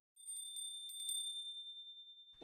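A bell ringing in a French soundscape, a bright sustained metallic tone with a few quick struck chimes early on, fairly faint and alone, ending with a brief rustle.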